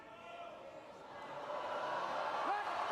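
A crowd at the 2012 London Paralympic powerlifting roars for a lifter attempting 140 kilos, the noise building and swelling louder toward the end.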